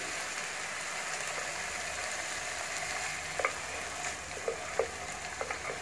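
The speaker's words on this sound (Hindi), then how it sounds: "अब इसको भी इसमें फ्राई करेंगे" Steady sizzling of boiled mashed pav bhaji vegetables frying in a pan, a constant hiss with occasional soft pops and stirring clicks near the end.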